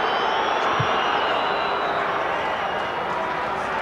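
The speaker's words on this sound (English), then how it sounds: "Again, the crowd's jeering does nothing." Dense roar of a large rugby stadium crowd jeering during a Springboks match, a continuous loud wash of massed voices with no break.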